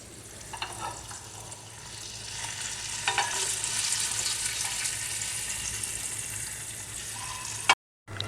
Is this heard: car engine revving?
no